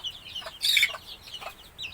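Backyard chickens cluck in a few short bursts during hot dry-season weather, one louder call in the middle and softer ones around it, fairly close with no talking.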